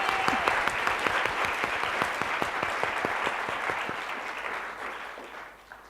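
An audience at an engineering conference keynote bursts into sustained applause for the women in the room, dense, even clapping that gradually fades toward the end.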